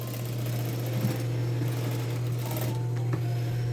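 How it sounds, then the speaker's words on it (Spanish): A sewing machine topstitches along a jeans seam, giving a steady, continuous motor hum with a fast stitching whir throughout, fairly close and alone without voices. "Ahora voy a pasar el pespunte, uno pegadito a la costura"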